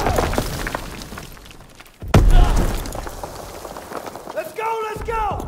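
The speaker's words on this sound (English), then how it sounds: "Toss it out a grenade!" A grenade bursts in Call of Duty WWII on the Normandy beach mission, a sudden loud boom about two seconds in that rumbles and decays amid battle noise, with shouted voices before and after.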